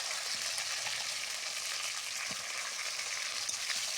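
Eggplant pieces frying in mustard oil with neem leaves give a steady, dense sizzle that holds close and even throughout, with only a faint scrape partway.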